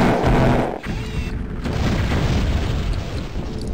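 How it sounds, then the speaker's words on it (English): Heavy grenade launcher blast from the Terminator: Future Shock video game, a loud booming explosion that opens the moment and then rolls into a long, dense rumble of debris and reverberation. "Let's abuse our grenade launcher as well."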